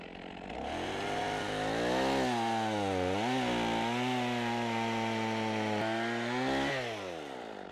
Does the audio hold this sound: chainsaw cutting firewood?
yes